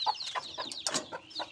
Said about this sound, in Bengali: এখন যেটা হচ্ছে আমার দেশি মুরগির বাচ্চা